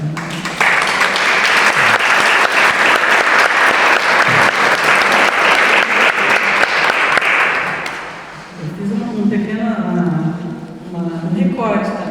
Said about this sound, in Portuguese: Uma salva de palmas para Fábio Magalhães.